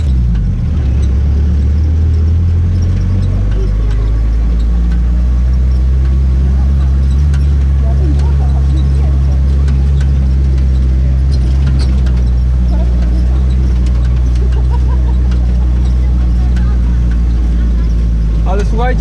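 GAZ-69 off-road vehicle engine running, a loud, deep, continuous rumble with a steady idle throb that holds through the whole stretch, with someone talking over it.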